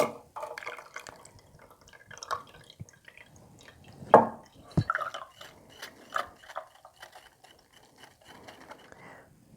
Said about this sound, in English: So I'm just going to strain this to get all those seeds out.